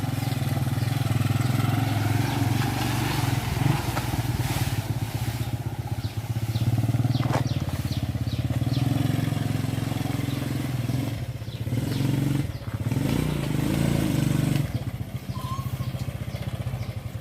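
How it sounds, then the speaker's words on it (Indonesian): A motorcycle rickshaw (becak motor) loaded with harvested corn stalks runs close by with a steady, rattling engine drone. The note swells slightly with throttle changes and the bodywork clatters over bumps throughout. "Jagung yang sudah kita kumpulkan, kita angkut menggunakan becak motor."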